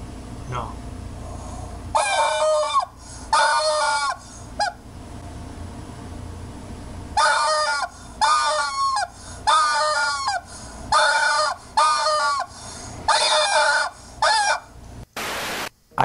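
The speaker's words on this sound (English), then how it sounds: "Chickens behind that." Chickens and a rooster in a farmyard, loud honking, clucking calls in repeated bursts separated by short pauses, close and dominant over faint background noise.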